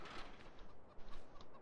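Chickens on a farm in Farming Simulator 15 cluck softly in a few short, irregular calls over a faint, muffled background.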